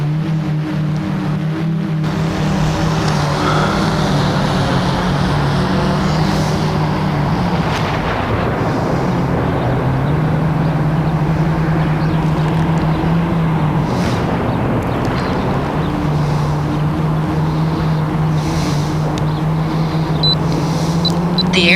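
Autel EVO 2 drone flying overhead above a football field: a loud, steady buzzing motor drone whose pitch holds, then shifts slightly, continuous throughout with wind noise and no talking.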